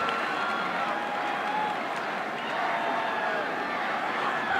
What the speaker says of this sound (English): Got the crowd fired back up.